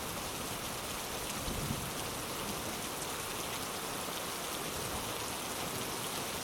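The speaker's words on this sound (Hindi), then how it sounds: "ये बारिश तो बढ़ती ही जा रही है" Heavy rain pours down steadily in a dense, even hiss of countless drops, loud and unbroken throughout with no voices.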